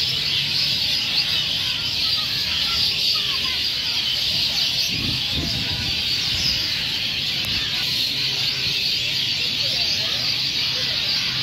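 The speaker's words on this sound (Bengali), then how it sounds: "এখানে মেইনলি চড়ুই পাখি আছে," A dense, unbroken chorus of thousands of sparrows chirping in the trees of Shaheed Hadis Park in Khulna, holding steady throughout with a faint low background murmur beneath.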